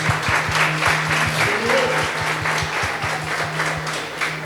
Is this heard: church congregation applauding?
yes